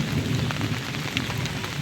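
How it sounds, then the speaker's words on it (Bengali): Thunder rumbling low and continuous beneath steady rain on a waterlogged street in Sylhet, the downpour hissing over a deep rolling growl with no voices. "আকাশে গুড়গুড় বৃষ্টি"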